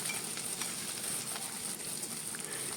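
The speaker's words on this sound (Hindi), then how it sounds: "प्याज को भी हम इसी तरह से हल्के से फ्राई करेंगे।" Onions fry lightly in a pan over a medium flame, giving a soft, steady sizzle with faint crackles throughout, close and fairly quiet.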